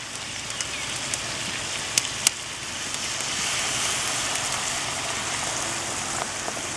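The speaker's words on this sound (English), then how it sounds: "we're going to pour in a bottle of beer." A whole bottle of beer is poured over hot dogs and onions sautéing on a Char-Griller Akorn kamado grill, producing a steady, close hissing sizzle with a few sharp pops and no talk.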